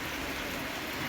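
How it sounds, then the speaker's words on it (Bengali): Light morning rain falling as a steady, even hiss with no distinct drops standing out, continuous and fairly soft throughout. "হালকা পাতলা বৃষ্টি হচ্ছে।"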